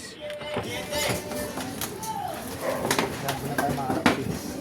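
Racing pigeons land and coo at a loft, soft murmuring calls with faint wing flutters spread through a busy, mid-distance background, with people talking nearby throughout.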